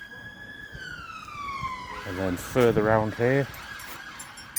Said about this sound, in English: Sorry about the police siren.